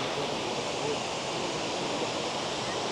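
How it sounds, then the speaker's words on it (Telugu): A steady, broad roar of rushing water fills the scene, even and unbroken, as Barachukki Falls is heard from some distance. "ఇవే అన్నమాట బారాచుక్కి వాటర్ ఫాల్స్"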